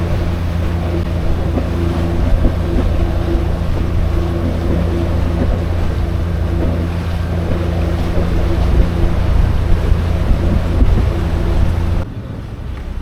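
A sailboat motors into Marina Del Rey harbor at the end of a voyage from Catalina Island, with a steady low engine drone, water wash and wind buffeting the microphone, continuous and fairly loud until it drops off near the end.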